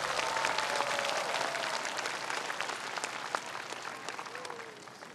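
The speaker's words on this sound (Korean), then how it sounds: "여러분 다시 한번 뜨거운 박수 부탁드리겠습니다" Audience applause rolls through an outdoor crowd at the 52nd Silla Cultural Festival ceremony in Gyeongju, a sustained, fairly distant wash of clapping that slowly fades, with faint voices underneath.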